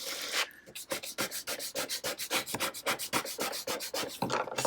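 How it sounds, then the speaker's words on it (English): A tool scrapes transfer tape down onto a ceramic mug in quick, even back-and-forth strokes. The rubbing is steady and close, with about twenty rhythmic passes and no talking. "Scrape it down really good"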